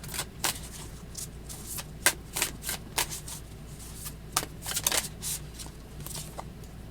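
Tarot cards are shuffled in quick papery riffles and soft clicks, irregular bursts close by in a quiet room.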